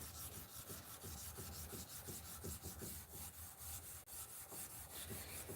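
Steady back-and-forth rubbing of 800 grit sandpaper on a surface, the rhythmic strokes repeating fast and even, close and fairly faint, with no talking.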